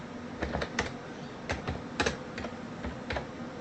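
Command typed on a computer keyboard, a short burst of close, clicky keystrokes in an irregular rhythm with small pauses between them.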